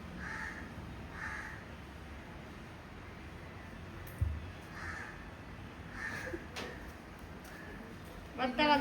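A crow caws several times during a Karkidaka Vavu ritual offering, with separate calls spaced through the stretch, fairly near and moderately loud, plus occasional knocks and a rustle near the end.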